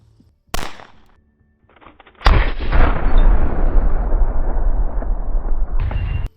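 Loud gunfire from a Jacob Grey Nox9 compensated pistol: a single sharp shot with a short tail, then after a pause a long rapid string of shots that blurs into a continuous roaring burst, ending abruptly.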